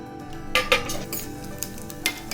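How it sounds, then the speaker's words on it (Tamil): Cashew halves roasting in ghee in a pan while being stirred, giving a soft steady sizzle with a few sharp metallic clinks and scrapes of a spoon against the pan. "முந்திரி பருப்பு செவக்கிற வரைக்கும் வறுத்துக்கலாம்."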